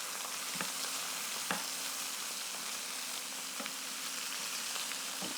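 Carrots and a shallot frying and browning in a pan for a game pepper sauce, a dense, steady sizzle with occasional louder pops and crackles and no voices.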